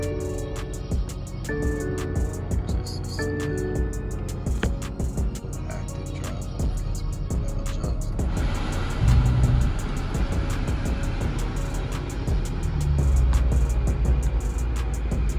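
BMW M6 Convertible heard from inside the cabin: interior chimes and electronic tones, then the engine starts and settles into a steady, muffled idle rumble with a few deeper surges of revs.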